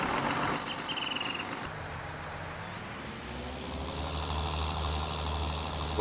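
A John Deere tractor engine in Farming Simulator 19 rumbles at idle, a low steady drone that shifts after a brief mechanical change and then settles into a deeper hum, with no talking.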